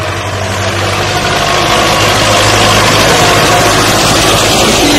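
A Belarus 510 tractor pulling an 18-disc plough through a Punjab field gives a loud, steady, low diesel drone that holds constant throughout without breaks.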